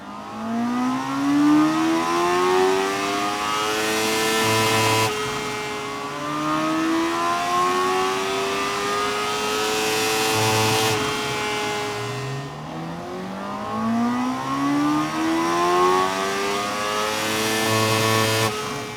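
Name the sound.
Honda CB1000 Hornet SP motorcycle engine revving on dyno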